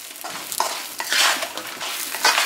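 Cooked shrimp being stir-fried in a sandy salted egg yolk sauce over raised heat: a steady hiss of frying with repeated scraping strokes of a spatula across the pan, close and fairly loud, no voices.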